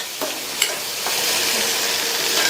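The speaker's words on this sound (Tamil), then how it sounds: "நல்லா கலந்து விட்டுட்டு மிதமான தீயில வச்சு ஒரு 2 நிமிஷத்துக்கு வதங்கிட்டு இருக்கட்டும்" Spiced mango with green chillies and chilli powder sautés in a pan over medium heat. A steady, close sizzle runs throughout, with a few light spoon scrapes as it is stirred.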